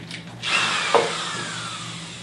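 Cordless drill driving a screw into wood composite: a close, loud whirring motor that ramps up, strains briefly as the screw bites, then continues steadily at a slightly lower pitch, with no talk.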